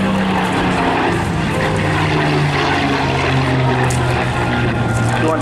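A Supermarine Spitfire Mk9 with a two-stage, two-speed Merlin 60 series engine flies past at an airshow in Eastbourne. Its engine drones loudly and steadily throughout, with a faint voice in the background.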